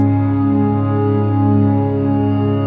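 A worship-style ambient synth pad sustains a steady, smooth chord with layered tones, holding evenly throughout with no rhythm or talk.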